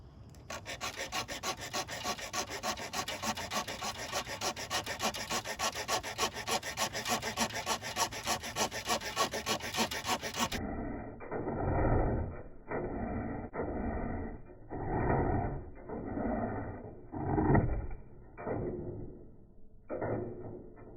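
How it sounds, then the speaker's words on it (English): A Swiss Army Fieldmaster knife blade scrapes and shaves fatwood, starting with a steady fast rasping run, then slower separate scraping strokes that come in rhythmic pulses, close up with no speech. "Let's go ahead and cut on that Fatwood a little bit."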